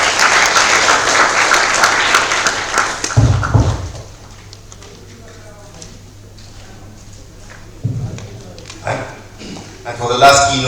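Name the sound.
conference audience applause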